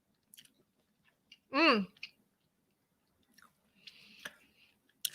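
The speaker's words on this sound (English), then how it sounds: "let's eat some more pudding" Someone eats pudding up close, with soft wet chewing and smacking in short bursts between pauses, and a brief hum of enjoyment.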